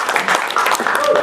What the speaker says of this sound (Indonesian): Tepuk tangan meriah dong bagi kita semuanya dong